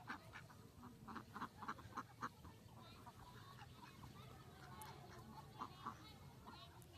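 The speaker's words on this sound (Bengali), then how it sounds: "দেখুন হাঁস" Ducks quack in a rural village near rice paddies, a run of faint, repeated nasal calls against quiet outdoor background noise.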